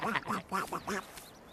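A cartoon duck quacks several times in quick, raspy bursts, loud and close, with no talking over it.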